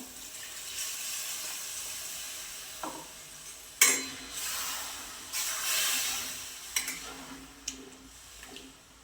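Water splashes and pours into a mixer jar in a few short bursts, fairly quiet, with clinks and brief pauses between.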